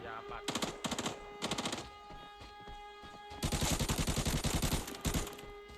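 Bursts of automatic gunfire in the shooter game Arena Breakout, several short rapid volleys followed by a longer sustained burst, loud and close with no talk over them.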